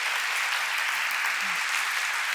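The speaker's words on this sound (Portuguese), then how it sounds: "Você pode dar um forte aplauso ao nosso Deus por isso?" Congregation at a church service applauds steadily, a dense, even wash of clapping holding at moderate loudness from start to finish with no voices breaking through.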